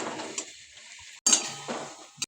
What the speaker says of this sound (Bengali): রাখা মশলাটা গরম তেলে দিয়ে দিই।